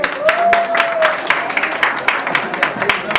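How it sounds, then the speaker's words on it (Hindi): Applause greets a singer at a devotional bhajan gathering for Shyam Baba, a steady wash of clapping from a crowd under a voice talking over it, with a brief tonal whistle early on. "जोरदार ताली से साजी का स्वागत"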